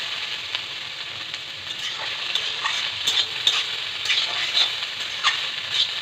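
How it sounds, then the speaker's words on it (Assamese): Mixed vegetables with turmeric, cumin and coriander powder sizzling and frying in a pan while being stirred, with steady close sizzle and occasional scraping clicks of a utensil throughout. "এনেদৰে 5 মিনিটমান লাৰি থাকিব।"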